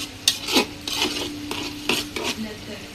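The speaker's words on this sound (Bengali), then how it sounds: "আমার পেঁয়াজের ব্রেস্তাটা এখানে হচ্ছে।" Onions frying for birista for tehari, stirred with a utensil that scrapes and clatters against the pan in uneven strokes over a steady sizzle, close up and with no voices.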